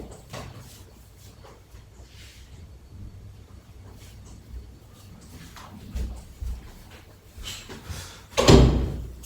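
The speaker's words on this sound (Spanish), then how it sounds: "Ya he cerrado, que la tenía abierta la puerta" An indoor door is pushed shut with a single loud thud near the end, after a stretch of quiet room noise with faint rustling, while a washing machine spins somewhere in the home.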